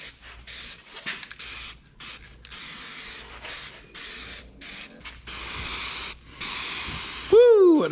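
A rattle can sprays blue paint onto a 1963 Loadstar truck chassis, repeated hissing bursts of varying length close by, with brief gaps and a sudden voiced squeal near the end.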